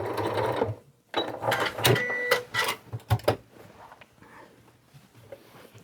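Sewing machine back stitching along the cuff of a holiday stocking, with short bursts of rapid mechanical whirring and clatter separated by brief pauses, close and fairly loud.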